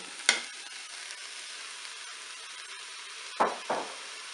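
Mushrooms frying in a Cookeo cooker make a faint, steady sizzle, broken by a few sharp utensil knocks, one near the start and two close together near the end, with no talking.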